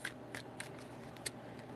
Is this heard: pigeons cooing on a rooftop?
no